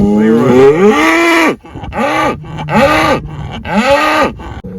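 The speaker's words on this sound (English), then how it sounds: "Here are my cows." Farm cows moo loudly and close by, one long drawn-out call followed by three shorter rising-and-falling moos in steady succession, with no talk over them.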